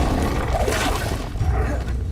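Confringo blasting spell going off in the Hogwarts Legacy video game, a loud rough crackling explosion that swells and fades over about two seconds amid busy game sound.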